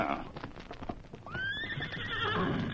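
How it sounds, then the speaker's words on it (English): A horse whinnies loudly, a long rising-then-falling neigh, over a clatter of hoof beats on the ground. "Me hear many hoof beats coming up trail."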